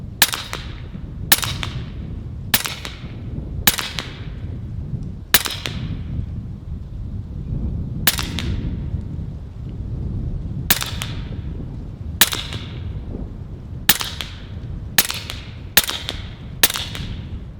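A .30 caliber Western Sidewinder air rifle fires pellets at a 60-yard range. About fourteen sharp, loud cracks come at irregular intervals, each with a short ringing tail, over low background hum.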